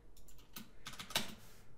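Brisk typing on a computer keyboard during game development work, a quick patter of key clicks with one sharper press, fairly quiet and close with no voices.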